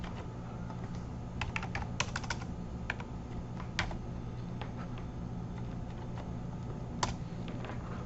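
Fingers tap on a computer keyboard while editing control points in ArcGIS Pro, producing sparse, sharp clicks scattered over about eight seconds above a steady low hum.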